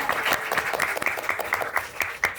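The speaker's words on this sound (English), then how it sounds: "Round of applause for y'all" An audience at a book festival panel applauds, scattered claps forming a moderate, steady patter of applause in an indoor room.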